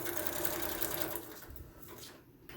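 A sewing machine runs steadily while stitching a zigzag pattern on fabric, a dense continuous whirring hum that eases off and quiets toward the end.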